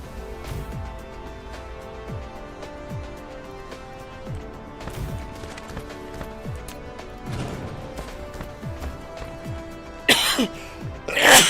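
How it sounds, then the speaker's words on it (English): A person coughs several times, the coughs rolling into an abrupt, louder sneeze near the end, close to the microphone with no talk over it. "Coughed right into a sneeze."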